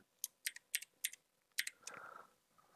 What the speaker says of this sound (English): we'll just type in some text.